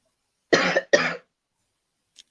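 Two sharp, close coughs in quick succession from a man during a timed challenge game, followed by silence and a faint tick.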